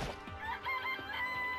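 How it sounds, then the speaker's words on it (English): A chicken in the Danganronpa video game clucks in a short burst of quick, soft squawks and clucks, faint and close, with no talking. "It's a chicken."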